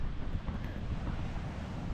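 Rough surf washes up on a Fort Walton Beach shore, stirred up by a hurricane a couple hundred miles to the south. It makes a steady low roar of waves mixed with wind buffeting the microphone, with no voices.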